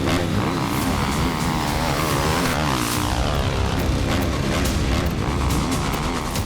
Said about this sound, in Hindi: वॉर जोन में अचानक गूंजती है कई मोटरसाइकिल की आवाज।